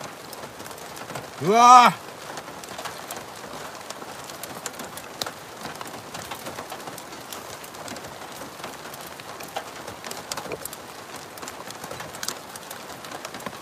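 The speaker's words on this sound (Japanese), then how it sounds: "雨の強さが半端じゃない。" Heavy rain pattering steadily on a surface at a mountain camp, a dense, close hiss of drops running throughout, briefly overlaid by a loud exclaiming voice near the start.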